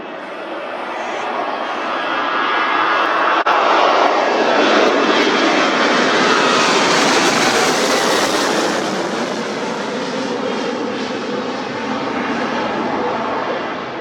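A fixed-wing airliner takes off from runway 32 at Leeds Bradford Airport, its engines building to a loud, sustained roar that swells as it passes and then fades slowly into the distance.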